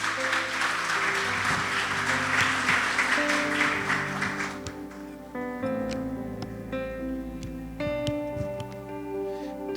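A church congregation claps loudly for several seconds, then the applause fades as sustained organ or keyboard chords carry on beneath it.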